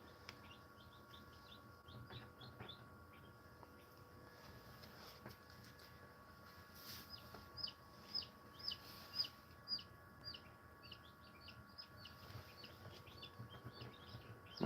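A hatching chick chirps from inside its shell, giving a string of faint, high, evenly spaced peeps close by over a low steady hum.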